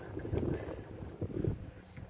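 Wind gusts buffet a homemade wind turbine outdoors, rumbling and thumping against the microphone in uneven low surges, with no voices.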